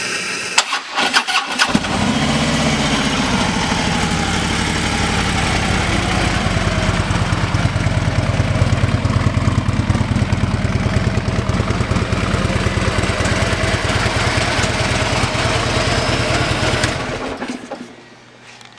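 A 2014 Harley-Davidson Electra Glide Ultra Limited with 58,215 miles cranks over, catches and settles into a loud, steady idle with a deep rhythmic throb close by, then cuts off near the end.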